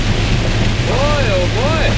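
Heavy rain hammers a truck near Houston, Texas in a loud, continuous roar over a low engine hum, with a voice partway through.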